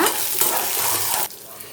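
Dried chillies crackle and sizzle loudly in hot oil, then the hiss drops abruptly to a quieter simmer.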